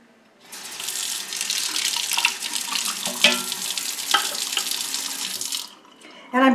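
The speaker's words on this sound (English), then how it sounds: "And I'm pouring into a sink." In an art studio, water pours steadily into a sink as a loud, continuous splashing rush for several seconds, then stops, followed by a brief knock.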